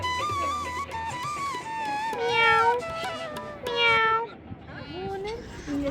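Small kittens meow repeatedly in high, wavering cries, several overlapping calls close by at a park near hot water springs, alone without talk.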